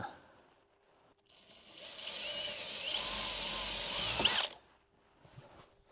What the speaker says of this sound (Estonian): proovime siis, kuidas me ise puurivaga saame siit